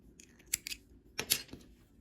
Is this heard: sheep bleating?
no